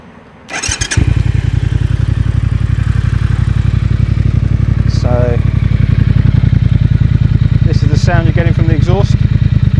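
A 2019 Triumph Thruxton R motorcycle cranks briefly and fires up, then settles into a loud, steady, pulsing idle close by while someone talks briefly over it.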